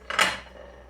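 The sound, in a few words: plate being taken out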